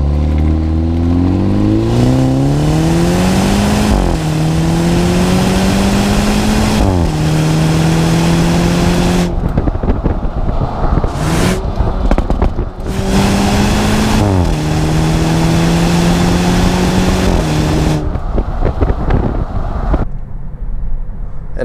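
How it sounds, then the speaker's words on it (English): A 2017 BMW 430i four-cylinder engine revs loudly through several rising gear pulls, the pitch climbing and dropping between shifts, with wind rushing past. "And the four-cylinder sounds pretty good."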